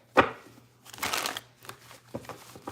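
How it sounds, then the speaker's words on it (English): Tarot cards being shuffled during a live reading, a single sharp riffle burst followed by softer rustling and a brief second flurry, close and fairly quiet with no talk. "One more shuffle here."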